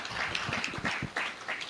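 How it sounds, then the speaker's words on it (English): Brief, fairly faint applause from an audience at a Kenyan freight and warehousing association event, a soft patter of clapping hands heard at a distance for under two seconds. "let's give a round of applause to its founder, Samuel Njoroge."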